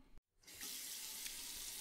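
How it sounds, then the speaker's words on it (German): Water runs steadily from a salon tap onto hair during a wash, a close, continuous hiss that starts after a brief pause and carries on alone without talk. "Wenn das Wasser zu heiß ist, dann bitte Bescheid sagen."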